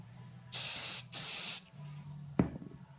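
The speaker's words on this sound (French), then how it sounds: "Je mets directement le produit lubrifiant" Aerosol can of lubricant sprayed onto a string trimmer's cutting head, two loud hissing bursts of about half a second each, followed by a sharp click and faint handling noise.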